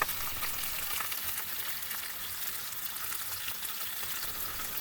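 Steak sizzles steadily in hot oil in a pan on a wood stove, a continuous close crackling hiss with no voices.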